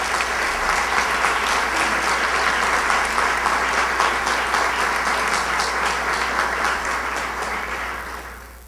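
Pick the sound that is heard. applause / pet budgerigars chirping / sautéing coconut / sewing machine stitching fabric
applause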